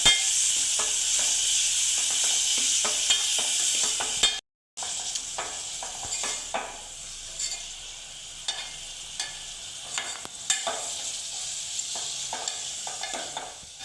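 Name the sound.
onion frying in hot oil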